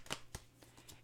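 Tarot cards being shuffled by hand during a card reading, a few quick soft riffles and flicks close to the listener, quiet and without talk.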